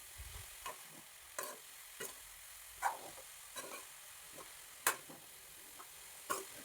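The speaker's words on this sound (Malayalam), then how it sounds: "എല്ലാം നന്നായിട്ട് മിക്സ് ചെയ്യുക." Pumpkin leaf thoran, Kerala style, is stirred in a pan: soft, faint scrapes of a spoon recur every second or so over a quiet, low sizzle, and nobody speaks.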